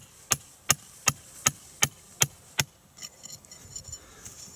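A trap stake is hammered into sandy Minnesota soil for a flat set, with seven evenly spaced, loud, sharp knocking strikes, followed by softer scuffing and small knocks from the driver.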